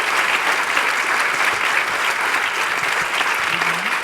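A festival audience at a music lesson in La Rochelle applauds steadily, a dense, even wash of many hands clapping that continues without a break.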